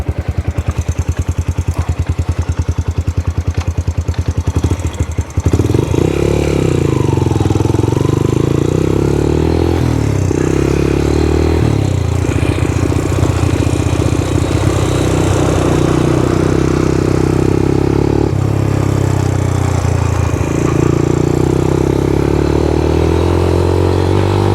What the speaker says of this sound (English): The idle sounds pretty good right now.